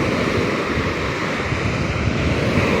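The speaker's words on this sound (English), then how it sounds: "Sounds just like the ocean, but it's the lake." A steady, rushing roar of lake waves washing onto an empty Michigan beach in autumn, with wind noise mixed in throughout and no talking.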